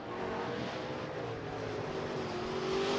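A late model street stock race car drones faintly along the front stretch at Rapid Speedway, a distant steady engine roar under broad track noise.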